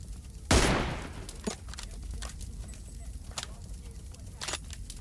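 Gunfights in PUBG Mobile sound from a distance, starting with one sharp loud shot and followed by scattered fainter pops and cracks over low background noise.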